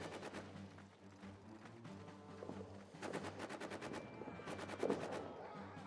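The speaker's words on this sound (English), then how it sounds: "Get position so we can take out the French MG." Bursts of machine gun fire from a French position in a World War I trench warfare video game, with rapid rhythmic volleys near the start, middle and end over a steady low game rumble.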